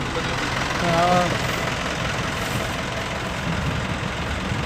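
A Hino Mega truck's J05D 175-horsepower diesel engine runs with a low, steady rumble and swells briefly in one short rev, while voices talk over it nearby.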